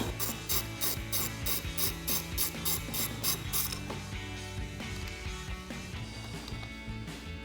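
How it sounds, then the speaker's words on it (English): A socket ratchet tightening a 13mm nut on a truck battery terminal, a quick series of close, crisp clicking strokes followed by quieter metallic handling. "tighten that down with the same 13mm socket"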